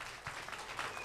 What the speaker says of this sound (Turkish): Onu bir kuvvetli bir şekilde alkışlıyoruz tekrar.